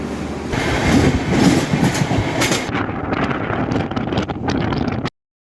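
Passenger train running on rails on the New Delhi Rajdhani route, a steady loud rumble with rhythmic clickety-clack that continues throughout, with some wind buffeting against the microphone.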